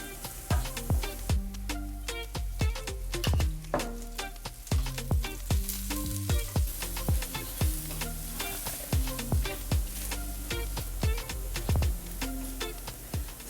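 Onion fries in oil for a plantain chorizo hash, a steady sizzle broken by regular clattering stirs and scrapes of a utensil against the pan, close and continuous with no talking.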